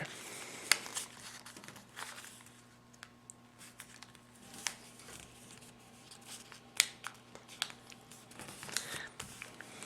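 Paper being folded into a stealth-nighthawk paper airplane crinkles and rustles softly at close range, with sharp creasing snaps scattered through the steady quiet handling.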